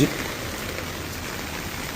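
Steady, dense rain hisses throughout, a continuous wash of falling water with no clear gaps, fairly close and even in loudness.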